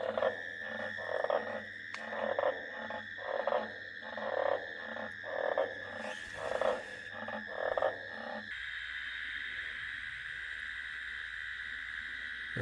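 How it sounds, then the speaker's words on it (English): Frogs croak in a rural backyard just after rain. Rhythmic pulsing croaks repeat roughly every second, then give way to a steady, faint chorus of calls. The calls are distant and quiet, with no voices. "that's the sound of the backyard and all the frogs right after the rain"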